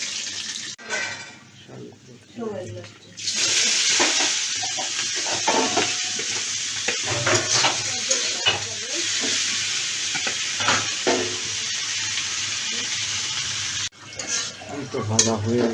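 Red amaranth leaves (lal shaak) fry and crackle in a pan while a spatula stirs and scrapes in repeated strokes, with a continuous sizzle under intermittent talking and a brief running-water splash.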